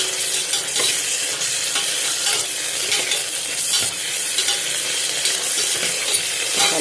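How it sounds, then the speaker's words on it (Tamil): Ginger garlic paste sautés in a hot pan, a continuous bright sizzle broken by frequent scraping and clinking strokes of a spoon stirring, up close with no speech. "நல்லா வதக்கிக்கலாம்."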